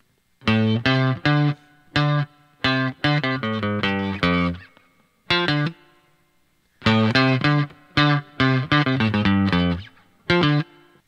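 A distorted electric guitar plays a chugging, staccato riff, short punchy chords and notes in two repeated phrases, loud and close, with brief gaps.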